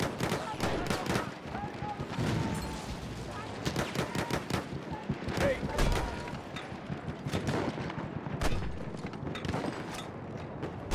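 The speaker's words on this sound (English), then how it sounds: "Machine gun, one of theirs." Rapid machine gun bursts and scattered gunshots crack throughout a World War I battle in Battlefield 1, dense and loud with distant booms and thuds mixed in, while a voice speaks briefly over the gunfire.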